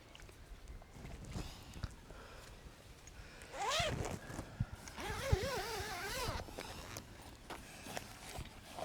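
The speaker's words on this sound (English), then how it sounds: "So, unzip it like usual." An awning's zipper is pulled open in a few scratchy, rasping strokes close by, with soft rustling of fabric and light handling noises around it.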